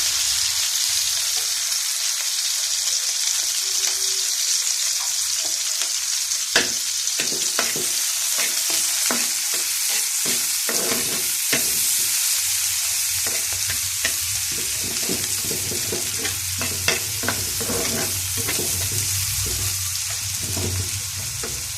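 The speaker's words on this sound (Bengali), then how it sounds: "ওখানে এটার ভিতরে পেঁয়াজ দিয়ে দিই।" Onions added to small frying shrimp sizzle steadily in a pan, with repeated scraping and tapping from stirring throughout.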